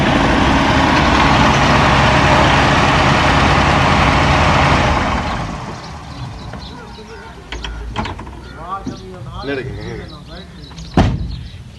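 A car engine runs loud and steady for several seconds, then drops lower with mechanical clicks and rattles as the car is taken out on Eid day; a person talks over the later part.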